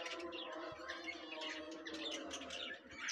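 Birds at a bird and animal market in Mirpur, Dhaka, chirping and tweeting in overlapping bursts amid a busy background murmur, with low cooing from pigeons or doves, fairly faint and distant.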